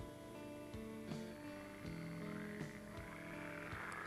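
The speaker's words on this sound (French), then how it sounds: "la grenouille croasse, près du ruisseau qui coule" A frog croaks near a flowing stream at dusk in a string of rough, repeated calls, fairly faint and a little distant, with soft background ambience between them.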